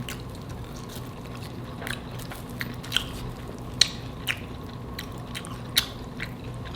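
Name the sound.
biting and chewing flaky chicken pot pie crust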